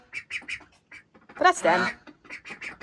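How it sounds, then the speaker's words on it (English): Baby ducklings and older ducks in a messy enclosure give repeated short, close quacks in quick bursts, with a person talking over them in the middle. "And obviously then, the older ducks."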